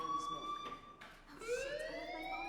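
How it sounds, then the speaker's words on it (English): A fire alarm sounds continuously with a steady electronic tone that dips and then rises again in a sweeping wail, fairly faint and in the background. "Hey, do you hear that fire alarm?"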